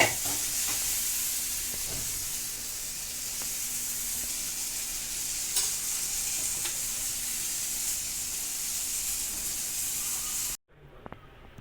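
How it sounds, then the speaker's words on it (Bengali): Onion and oats fry in a pan with a steady, close sizzle and hiss, interrupted by occasional scrapes of stirring, running continuously for about ten seconds before cutting off. "পেঁয়াজটা দিয়ে ফ্রাই করে ওটসটা এমনি বানিয়ে নেবো"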